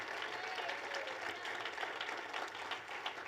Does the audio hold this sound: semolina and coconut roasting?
no